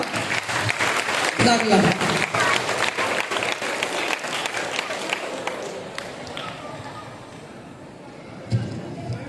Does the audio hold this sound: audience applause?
yes